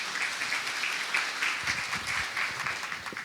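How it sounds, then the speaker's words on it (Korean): An audience at the SQL Unplugged 2013 database conference applauds as a talk begins, with steady, dense clapping from a crowded room and no voice over it. "여러분 박수 부탁드립니다."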